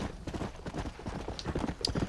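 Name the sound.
horse hooves clip-clopping while riding in Red Dead Redemption video game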